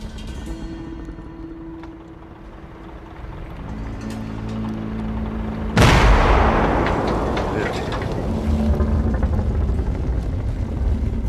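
Enemy artillery barrage in the Finnish-Russian Winter War, a dense continuous rumble of heavy guns with a sharp loud blast about halfway through, followed by sustained booming and crackle.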